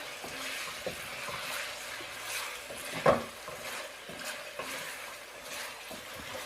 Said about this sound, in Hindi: इसको भी हम चिकन के साथ अच्छे तरीके से फ्राई करेंगे।